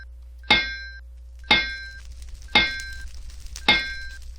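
A forge hammer in a video game strikes a hot ingot on an anvil four times at an even pace about a second apart, each blow a sharp metallic clang with a ringing tail over a low steady hum.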